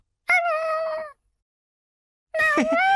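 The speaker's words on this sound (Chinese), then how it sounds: "快看，一只小猫！" Two distinct meows from a small cat, close and fairly loud, separated by a brief silence.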